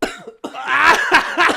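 A man coughs hard in a quick rough burst of several harsh coughs, close and loud, after smoking too much weed.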